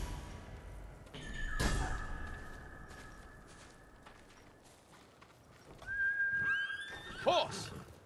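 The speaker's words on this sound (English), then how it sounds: "You're a good horse, Kage." A horse neighs twice in the samurai video game Ghost of Tsushima, a short whinny early on and a longer, wavering one near the end, with soft hoof thuds and ambient sound between.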